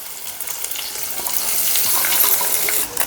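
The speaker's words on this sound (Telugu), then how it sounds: "ఉల్లిగడ్డలు కూడా ఆయిల్లోనే కాల్చుకోవాలి." Onions frying in oil in a pan for a spicy mango and fish curry, a close, steady hissing sizzle that swells slightly, with light stirring and no voices.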